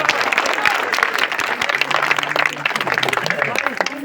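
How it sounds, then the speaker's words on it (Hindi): Loud applause from guests at a Buddhist-Ambedkarite wedding ceremony, a dense sustained clapping crowd that continues throughout, with some voices and murmurs mixed in underneath. "जोरदार ताली"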